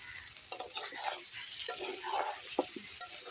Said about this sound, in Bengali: আর একটু নাড়াচাড়া করলেই হয়ে যাবে আর একটু নেড়ে চেড়ে দিই